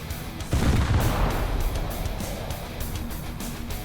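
Heavy 5-inch naval guns aboard an aircraft carrier in War Thunder fire with a deep booming blast, followed by a rumbling echo and several fainter repeated reports.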